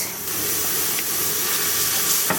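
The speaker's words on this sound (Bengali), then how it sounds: "প্রেশারে দিছি প্রেশার কুকারে দিয়ে দিছি" A pressure cooker holding vegetables, likely drumstick, lets out a loud, steady broadband hiss of escaping steam that runs unbroken and close throughout, with a brief sharper burst near the end.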